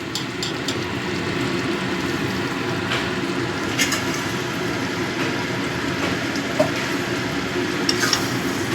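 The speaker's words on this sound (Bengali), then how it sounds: "ঘি দিয়ে মিশিয়ে দিচ্ছি" A spoonful of ghee is stirred into a vegetarian potato curry (aloo dum) in a pan, giving a continuous loud, close sizzle with scraping and stirring through the gravy, alone without speech.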